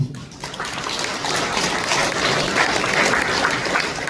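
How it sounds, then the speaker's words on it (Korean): Audience at a book concert in Seoul applauds for an arriving council chair, a thick, sustained roar of clapping that fills the room and holds steady for several seconds. "박수 한번 쳐주시죠."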